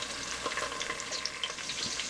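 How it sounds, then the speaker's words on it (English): Onions sizzle and crackle steadily in hot oil in a pan, a dense close frying hiss with small pops and no voices. "I'm going to put some onions in there. While it's frying"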